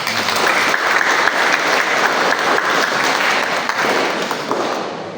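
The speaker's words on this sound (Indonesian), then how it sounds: "Kita tepuk tangan." An audience at the closing of a Catholic youth day claps loudly and continuously, dense applause close by that tapers slightly at the end.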